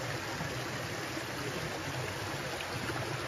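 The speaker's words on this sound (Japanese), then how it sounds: "ここは霊場でやっぱりこう参拝をする滝" A waterfall at a sacred pilgrimage site in Iga gives off a steady, even rush of falling water, moderately distant and unbroken throughout.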